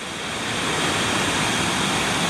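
Water pours over a dam on the New River in a steady, loud, close roar of broadband rushing, unbroken and with no voices.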